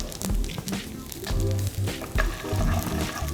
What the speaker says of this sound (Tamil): இந்த மிளகா எண்ணெயோடு நல்லா வதங்கணும்